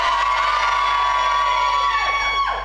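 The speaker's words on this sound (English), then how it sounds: "Everybody over this side, give me a cheer." A live audience at a Saturday night choir show at a holiday resort cheers and shouts, a dense continuous crowd roar with whoops throughout.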